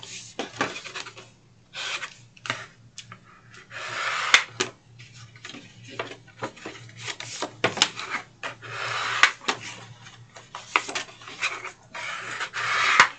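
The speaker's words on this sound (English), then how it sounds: "So now we are going to fold and burnish all of our scores." A scored 12x12 paper sheet is folded and burnished by hand, with irregular close rubbing and scraping strokes in short bursts separated by brief pauses, fairly quiet, with no talking.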